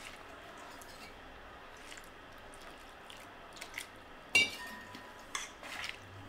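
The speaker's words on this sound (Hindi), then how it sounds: "अब उसको पानी डालेंगे उसमें और उसका अच्छे से घोल बनाएंगे" A batter of wheat flour and water for chilla is stirred in a bowl, giving faint, soft, sporadic squishy scrapes and clinks against a quiet background.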